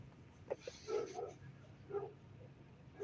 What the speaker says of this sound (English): Why is there so many damn dogs barking?